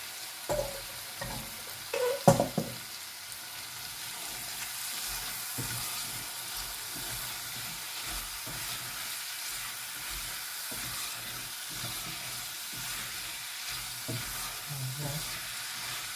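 Potatoes being stirred into a hot pan for huevos rancheros, giving a steady low sizzle with soft scraping strokes and a few louder clatters near the start, close and alone with no talk.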